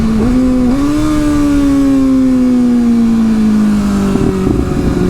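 A Kawasaki ZX6R fitted with a LeoVince LV One EVO exhaust drones loudly at high revs, the pitch slowly easing off before crackling pops burst out as the throttle closes near the end.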